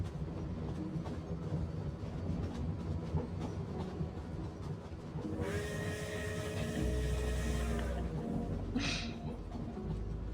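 Train rolling along rails in the Genshin Impact video game, a steady rumbling clatter with rhythmic wheel noise that swells louder and brighter partway through, heard up close with no talking.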